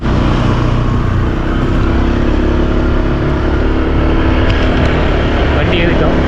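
A motorbike taxi rides through traffic in Bali, its engine droning loudly and continuously with road and wind noise, with talking underneath.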